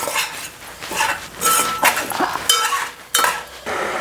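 Coarse semolina stirred in oil in a pan with a metal spoon, giving repeated scraping and clinking strokes in an irregular rhythm, close and fairly loud, with no talking.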